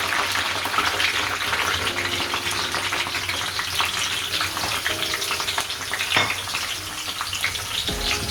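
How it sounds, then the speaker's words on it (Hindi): Two medium onions go into hot oil for a dhaba-style chana dal tadka, sending up a loud, steady, close sizzle with faint stirring scrapes underneath. "नहीं, ऑयल हमारा गर्म हो गया। अब इसमें ये 2 दरमियाना साइज के मेरे पास प्याज है, ये डाल देंगे।"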